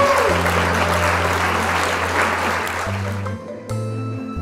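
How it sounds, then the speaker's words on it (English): Applause from a classroom group fills most of the clip, brisk and steady, then fades out near the end with a low hum underneath. "A round of applause."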